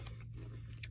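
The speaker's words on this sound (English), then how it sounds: "I gotta stop eating them so I can score the Doritos." Doritos Collisions Stranger Pizza and Cool Ranch tortilla chips crunched close up in a car, a brief chewing burst under a steady low engine hum.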